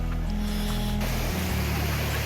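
A mountain stream runs at Darya Ghat in the Sahyadri hills. The water makes a loud, steady, close rushing wash that fills the whole short stretch.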